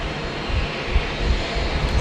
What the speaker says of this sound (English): T-Way 501 coming in from Seoul. Just clear to land there on runway 16 right.